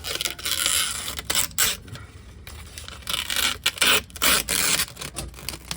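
Peeling release material off a repaired Yamaha GP1800 jet ski pump tunnel with epoxy and glass, a close series of irregular tearing and scraping rips with short pauses.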